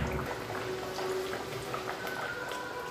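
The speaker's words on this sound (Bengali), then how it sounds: "কয়েকটা ভাটুরা আমি রেডি করে নিয়েছি আর এগুলো ভাজার জন্য রিফাইন অয়েলটাও গরম হয়ে গেছে" Bhatura frying in hot refined oil over a medium flame, a dense, steady crackle and bubbling sizzle, close and continuous throughout.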